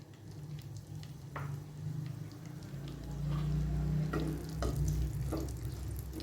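Square-cut onion pieces hitting lightly heated oil in a kadai for a capsicum onion gravy, a continuous low sizzle and bubbling with occasional scraping clinks of a spoon, swelling louder midway and staying close and steady.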